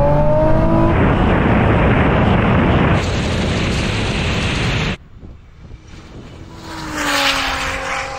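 A modified Nissan GT-R road car and an electric rally car launch in a drag race, a loud sustained roar of acceleration that drops off abruptly partway through, followed by quieter whine and a rising second surge.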